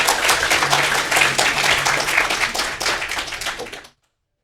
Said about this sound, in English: please help me give a big round of applause to Matthew Reaney